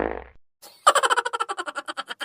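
Cartoon fart sound effect in an Awadhi comedy cartoon: a brief blurt, a pause, then a long rapid burst of sputtering pulses that slowly fades out.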